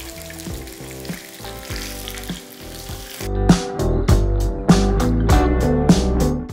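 Mushroom pieces are dropped one at a time into hot oil for deep frying, and the oil bursts into a loud, steady sizzle and bubbling after the first few additions.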